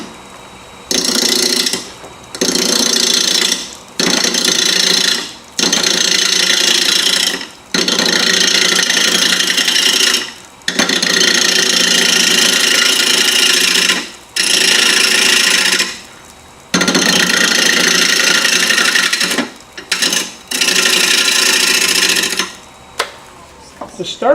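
A wood lathe turns an irregular bowl blank while a gouge cuts into it. Loud, harsh cutting noise comes in roughly a dozen bursts of a second or more, each followed by a short quiet gap, close up with nothing else heard.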